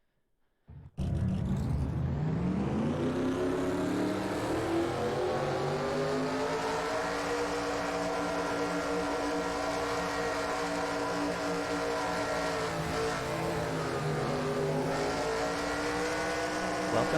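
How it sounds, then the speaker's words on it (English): A field of race car engines roars to life at the start of a NASCAR Racing 2003 stock car race at Ontario, a sudden loud burst settling into a sustained, droning layered engine howl that holds steady throughout. "Drivers, start your engines!"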